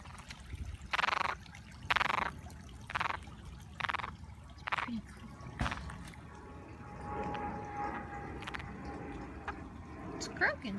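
A small tree frog at a backyard pond with lily pads gives a series of short, evenly spaced croaks, close and clear, followed by quieter water and handling sounds while people talk softly nearby.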